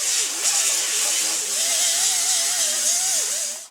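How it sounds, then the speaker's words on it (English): A grinder works over welds on a steel transmission tunnel panel in a '66 GTO, producing a loud, close, continuous hissing whine whose pitch wavers with the load until it stops abruptly. "we're just going to grind those welds a little bit"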